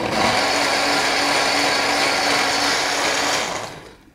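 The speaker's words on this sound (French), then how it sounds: "La soupe a fini de cuire, donc on va la mixer maintenant." A blender purées a creamy pumpkin soup with mussels and clams, a steady loud whirring motor drone that holds evenly for several seconds and then winds down and cuts off at the end.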